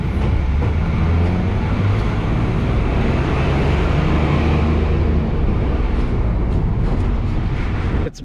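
A train at a Bangkok railway station gives a loud, steady rumble with clattering wheels and a broadband roar that holds throughout, with no talk.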